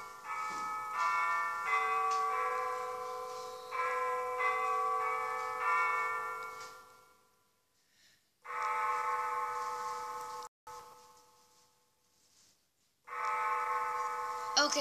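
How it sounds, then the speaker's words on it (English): The Big Ben bell in London chimes 10 p.m., sounding a ringing melodic sequence of tolls with sustained tones and pauses between phrases, heard from a distance at night with no talk. "So let's hear the chime of Big Ben."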